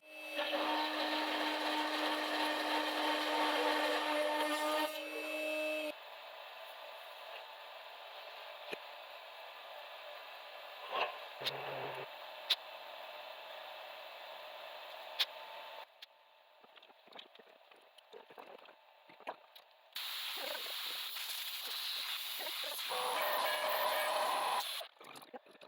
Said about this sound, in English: Now let's go to the CNC and make this plate, make this probe